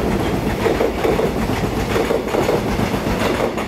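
An EMU736+EMU735 electric commuter train departing Su'ao station on the Yilan Line, heard up close as a loud, steady rumble with a rhythmic clickety-clack of wheels over rail joints throughout.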